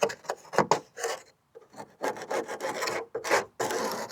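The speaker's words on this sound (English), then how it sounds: "So I'm going to have to scrape this whole top down." An old vinyl car top is scraped down by hand, rough rasping strokes coming in close, loud bursts with a brief pause midway.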